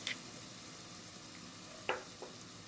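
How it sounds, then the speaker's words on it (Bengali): Garlic goes into a pan of frying onions for a beef keema kofta, giving a steady low sizzle with a couple of brief stirring clatters and no talk. "পেঁয়াজ ভাজা হয়ে গিয়েছে আমি এখন রসুন দিব"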